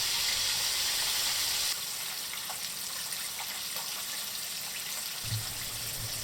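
Steady hissing sizzle of chicken frying in hot oil fills the clip, loud and continuous, with a faint low hum near the end.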